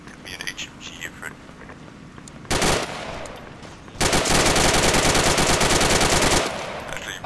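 Heavy machine gun fire from an HMG Ifrit in the video game Arma 3: a short burst, then a longer sustained stream of rapid, loud rounds, with faint radio chatter and wind noise between.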